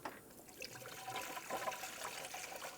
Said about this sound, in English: fill it with the manufacturer's recommended coolant